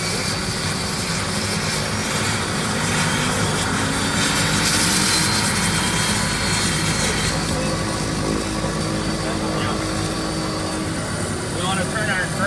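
A Beechcraft King Air turboprop engine starts up on the starter, a continuous droning whine that rises and builds steadily, heard close and loud, with faint voices of the crew over it.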